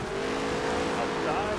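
Race cars roar together in the Nascar Heat 3 racing game, a continuous dense engine drone with rising revs, loud and steady, with a voice talking over it.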